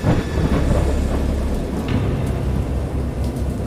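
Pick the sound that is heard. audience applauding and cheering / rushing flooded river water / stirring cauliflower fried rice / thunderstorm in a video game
thunderstorm in a video game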